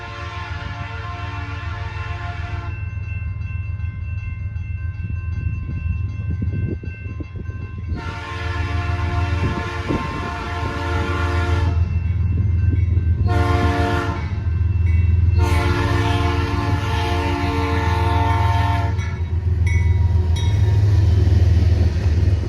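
A CSX I-131 intermodal freight, all stacks behind a single lead locomotive with no DPU, rolls through town with a loud, steady low rumble. Its horn sounds two long blasts, a short one and another long one, then fades to a faint trailing note.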